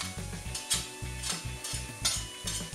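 Chopped vegetables and crushed garlic sizzle softly in a pan for a Greek-style meal, with a spoon stirring in repeated short scrapes and no voices.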